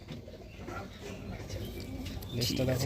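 A Madras pigeon held in someone's hand gives low, soft coos that grow a little stronger toward the end, heard close up against a steady background murmur.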